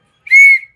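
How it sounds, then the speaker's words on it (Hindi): A small toy whistle gives one shrill, steady blast of under half a second, loud and close, in a rainy village setting. "हमारे ये गोलू ने बजा दी सीटी"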